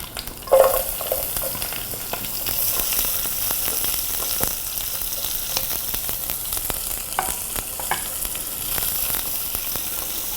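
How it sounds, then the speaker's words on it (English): A steady hiss of onions and fenugreek seeds frying in oil fills the clip, with occasional crackles and a brief clatter near the start, close and continuous, with no talking. "When fenugreeks are frying in oil, it smells so nice."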